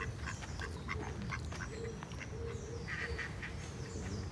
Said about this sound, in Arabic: يا عمر ما شاف البط بط